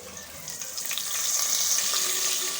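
Spices with asafoetida and curry leaves sizzle in hot coconut oil while tempering, a close, continuous crackling sizzle that grows slightly louder, with no talking.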